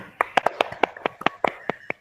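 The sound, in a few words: class applauding a student group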